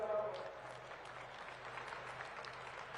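An audience applauding at a National Games closing ceremony, heard as quiet, distant, continuous clapping from a large crowd that carries on evenly from start to finish.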